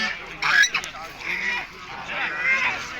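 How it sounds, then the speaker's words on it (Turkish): Ducks and geese honk and quack at a Turkish poultry and pigeon market in Sakarya, with several loud calls in a busy outdoor setting as people talk nearby. "Ördek."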